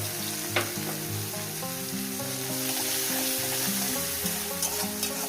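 Crushed green chili and garlic fry in a pan with a steady, continuous sizzle, loud and close, with a faint clink near the start and no voices.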